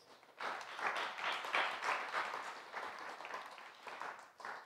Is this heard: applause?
yes